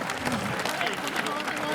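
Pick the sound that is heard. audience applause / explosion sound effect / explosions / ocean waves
audience applause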